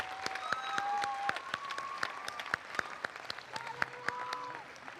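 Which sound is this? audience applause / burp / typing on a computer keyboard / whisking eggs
audience applause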